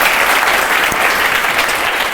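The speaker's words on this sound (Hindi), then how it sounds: "मिनिस्ट्री ऑफ एक्सटर्नल अफेयर्स में मारो ताली" Dense, loud clapping from students in an offline exam-coaching classroom, a continuous burst of many hands applauding without pause and no talking over it.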